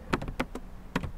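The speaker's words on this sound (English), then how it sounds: "I will type here students list for the academic" Quick bursts of keystrokes clatter on a computer keyboard nearby, several crisp taps in uneven clusters with short pauses between them.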